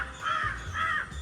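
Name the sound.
crow cawing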